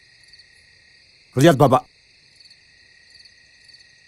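Crickets chirp at night in a steady, high continuous trill that runs throughout, with a brief burst of spoken voice cutting in partway through.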